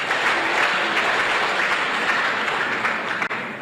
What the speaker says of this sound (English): help me say a big thank you by giving them a round of applause